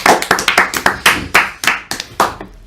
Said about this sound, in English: let's give this video a little clap as well